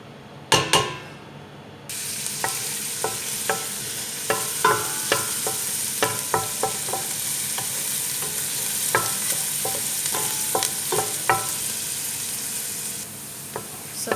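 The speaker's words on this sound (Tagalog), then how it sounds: "Lalagyan natin ng oil. Ayan. So, ilagay natin ang onion." Onion frying in oil in a cooking pot while being stirred: a steady close sizzle rises after a short pause, broken by repeated clicks and scrapes of the utensil against the pot.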